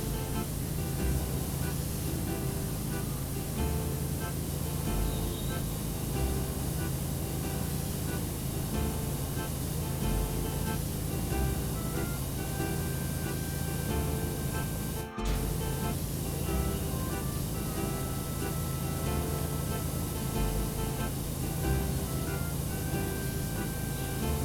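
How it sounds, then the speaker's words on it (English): A pressure washer sprays a wall in the PowerWash Simulator video game, a loud, unbroken hissing jet that runs steadily throughout with one brief cutoff midway and no voice over it. "sprayed every bit of this wall"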